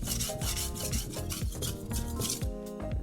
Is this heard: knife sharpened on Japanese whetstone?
yes